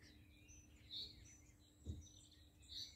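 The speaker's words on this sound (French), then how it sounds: "vous entendez les petits oiseaux, là c'est la pleine campagne" Small birds chirp faintly in open French countryside, a few brief high tweets spaced apart over a quiet rural background hum, with no talking.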